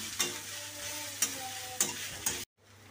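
Food fries in a home kitchen pan as it is mixed with a spoon, four sharp scrapes standing out over a steady sizzle before the sound cuts off abruptly.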